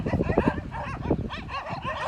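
A pack of dogs in a scuffle at night by a riverbank, yelping and snarling in rapid overlapping bursts, fairly close.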